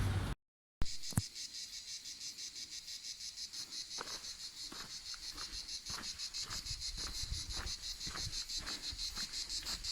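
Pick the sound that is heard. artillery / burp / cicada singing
cicada singing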